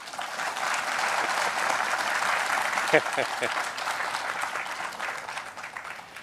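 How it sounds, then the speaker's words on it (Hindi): Dense applause from an audience of teachers at a state award ceremony, a sustained broad wash of clapping that holds steady and loud throughout, with a few sharper claps and a voice briefly rising above it midway. "जोर से ताली तो बजाइए"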